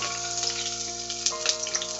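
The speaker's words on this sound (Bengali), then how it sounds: "এরপর এর মধ্যে কয়েকটা রসুনের কোয়া দিয়ে দিলাম" Dried chili and garlic cloves fry in hot mustard oil with a steady, dense sizzle and small crackling pops, close and continuous throughout.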